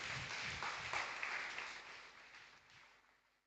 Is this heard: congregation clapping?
yes